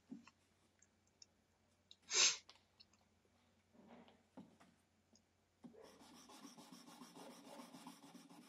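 A knife blade is hand sanded with fine-grit paper: faint, soft rubbing strokes that settle into a steady quiet rasp in the last few seconds, after a sharp click.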